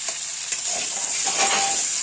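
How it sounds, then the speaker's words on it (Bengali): Potatoes and eggplant frying in oil tempered with nigella seeds, giving a steady close hiss of sizzling oil with a few light stirring clicks, no talk. "তেলে আলু বেগুনগুলো দিয়ে দিয়েছি কালো জিরে ফোড়ন দিয়ে"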